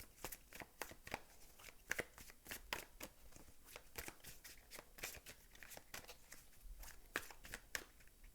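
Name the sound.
shuffling tarot cards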